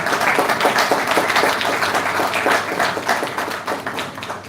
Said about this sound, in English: I think we must all clap for the children who have come.